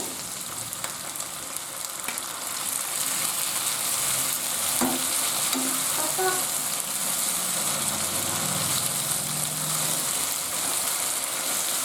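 Tomatoes frying in a pan for Mysore bisi bele bath, a steady broadband sizzle running throughout with a few soft stirring knocks and clinks, no talking.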